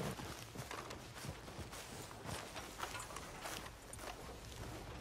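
Horse hooves clip-clop steadily in Red Dead Redemption 2, a faint, even trot of repeated thuds that continues throughout with a soft mechanical creak in the background.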